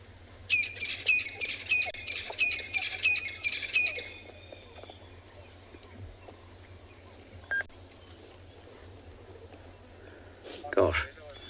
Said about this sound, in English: the glorious fanfare of birds all around us. Coqui francolins and